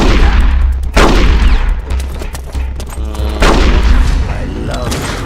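Gunfire in Metal Gear Solid: The Twin Snakes, a dense volley of loud, close bursts with booming low-end rumble, sustained over several seconds with rapid repeated shots and a second heavy burst later.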